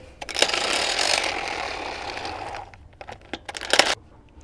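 A 12-volt cordless impact wrench rattles loudly for about two seconds while removing lug nuts from a car wheel during a front brake pad job, followed by a few short bursts and clinks nearby.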